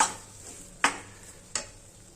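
Flour roasting in ghee in a pan gives a steady soft sizzle, while a spoon stirs and scrapes against the pan in two sharp strokes at even intervals.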